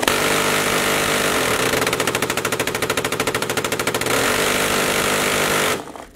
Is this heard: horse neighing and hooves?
no